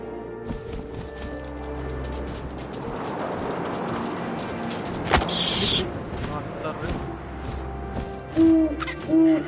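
An owl in the video game What Remains of Edith Finch hoots over a low rumbling game backdrop, with short tonal hoots and a sharp burst midway, and a few louder hoot calls near the end.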